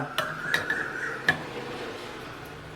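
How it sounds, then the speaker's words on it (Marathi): A metal rice container set down inside a pressure cooker on top of a dal container, giving a few light metallic clinks and one sharper ringing knock, close and quiet with no talk. "वरून आता हे भाताचा डबा"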